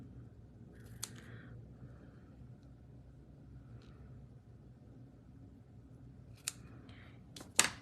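Crafting scissors are handled during a paper-stamping card session, giving a few brief metallic clicks and snips over a low steady room rumble, with no talk.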